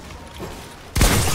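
A single loud gunshot in a Fortnite-style box fight, a sudden heavy blast with a booming low tail that lands after a quiet stretch of faint game ambience.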